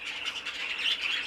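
A green cock bird in a breeding cage gives a brief, close, scratchy squawking call, a quick run of harsh chirps lasting about a second.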